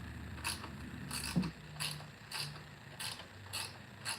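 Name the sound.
stubborn bolt being backed off on Toro Timemaster mower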